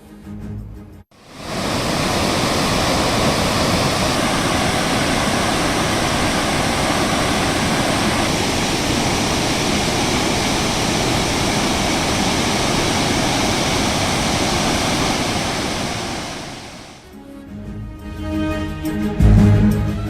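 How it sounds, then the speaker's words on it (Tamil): Floodwater pours over Thirparappu waterfalls and past the barrier fences, a loud, steady, broadband roar that holds for about fifteen seconds before dropping away near the end. "திருப்பரப்பு அருவிகள் தடுப்பு வேலிகளை தாண்டி தண்ணீர் கொட்டுவதால் சுற்றுலா பயணிகள் குளிக்க தடை."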